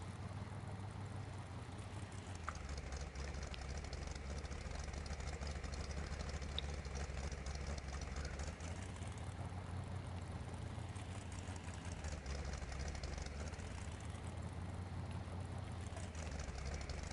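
A pickup truck with an automatic transmission idles with a throaty exhaust, giving a steady low rumble that stays constant and close for the whole stretch, with no talking over it.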